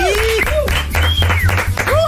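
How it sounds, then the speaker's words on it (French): A studio audience applauds and cheers for Dorothée on a French radio show, with bursts of clapping mixed with rising and falling voiced whoops. "vous pouvez applaudir Dorothée qui est avec nous"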